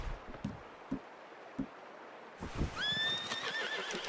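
A horse in Red Dead Redemption 2 snorts and stamps a few soft hoofbeats, then lets out a loud, drawn-out whinny that rises and trails off near the listener.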